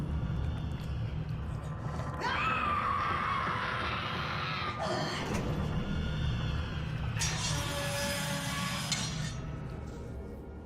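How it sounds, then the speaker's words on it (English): An eerie, strained scream rises and wavers through a dark, rumbling BioShock game scene, followed by a harsher noisy burst, with low ambient drone beneath and nobody talking. "that incredibly eerie scream"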